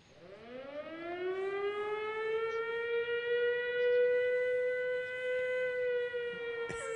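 A civil-defense siren slowly winds up and holds a steady, rising wail with layered overtones, sounding at a distance throughout, during storms in the area.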